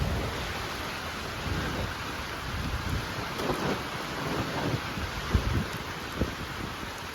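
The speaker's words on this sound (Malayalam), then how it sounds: "നല്ല കാറ്റുമുണ്ട് നല്ല മഴയുണ്ട്." Heavy rain pours down in a steady roar at Chaliyam during cast-net fishing, while wind gusts buffet the microphone. No one speaks.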